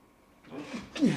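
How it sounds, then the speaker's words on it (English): A single quick sneeze bursts out at close range after a brief quiet breath, loud and abrupt at the end. "Excuse me. Sneeze."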